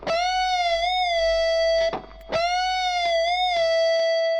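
Electric guitar notes bent up a full step and back, then a half step, each held as a clear sustained tone with smooth pitch glides, a brief gap between two phrases, played alone and fairly loud.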